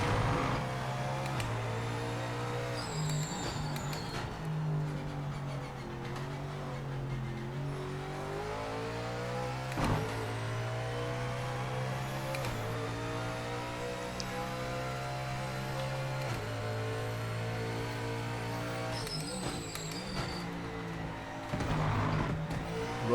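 A Ford Mustang GT4 race car in a racing game holds a loud, steady engine drone as it runs over curbs, its pitch sweeping up and down through gear changes across the lap, close and without talk.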